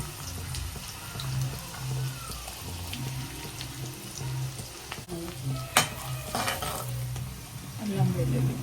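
Onions frying in hot oil in a pan for Telangana-style crab curry, a steady close sizzle with occasional stirring clinks and scrapes of utensils against the pot, no voices.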